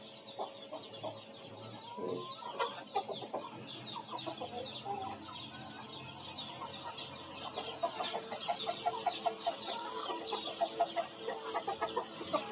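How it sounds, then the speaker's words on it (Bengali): Tiger hens in a laying area of a home poultry yard give continuous rapid clucking, several birds together close by, growing busier and louder toward the end with no talk. "আর এখানে ডিম পারে টাইগার মুরগিগুলা।"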